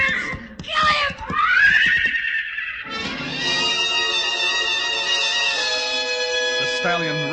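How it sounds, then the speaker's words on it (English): A shrill stallion whinny rises and falls in a 1950 radio drama sound effect of a rearing horse, followed by a sustained dramatic tone while someone speaks. "The stallion reared high, pawed at the gathering darkness."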